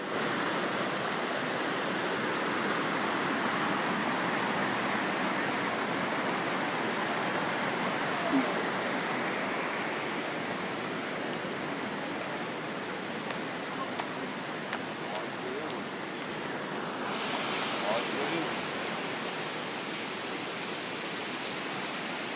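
Düden waterfall pours in a constant broadband roar of falling water, steady and close, with faint voices of people nearby briefly audible over it.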